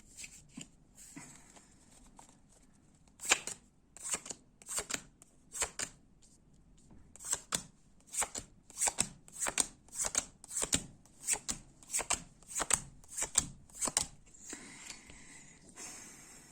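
Playing cards shuffled for a cartomancy reading, heard as a long run of quick, crisp riffling bursts repeating in a steady rhythm close by, with no talking.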